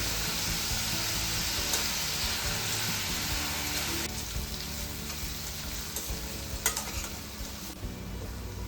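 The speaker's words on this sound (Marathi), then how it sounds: "कांदा छान आपला आहे ना चांगला होऊ देऊ आपण आता तेलामध्ये." Finely chopped onion fries in hot oil with a dense, continuous sizzle and crackle, broken by occasional stirring scrapes and pops, close and steady with no talk.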